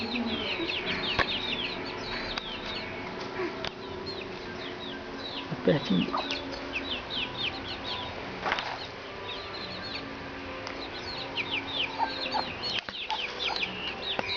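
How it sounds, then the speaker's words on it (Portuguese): A hen clucks and chirps softly nearby with her chick in a farmyard in Breu Branco, Brazil, with small peeping calls throughout and a few brief voices speaking. "Ó a galinha lá com o filhote dele."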